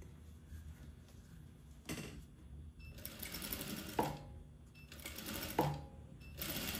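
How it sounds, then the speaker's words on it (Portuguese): A straight-stitch sewing machine sews a dress with elastic thread in short, close bursts of whirring, with clicks and knocks from the fabric and presser foot being handled between the runs. "E vamos seguindo com a costura até a gente chegar aqui na outra ponta."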